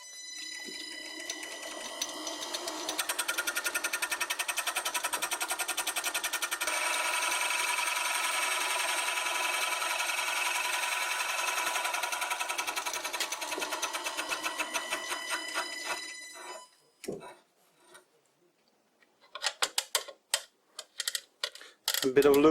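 File-made scraper on a lathe cross slide truing a wooden test piece, a rapid rhythmic chattering clatter that runs loud for about fifteen seconds, then stops and gives way to scattered intermittent clicks and bursts.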